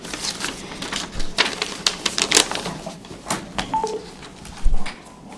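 A telephone is dialed in a city council chamber, with a quick run of sharp key clicks and short beeps at close range and no talk.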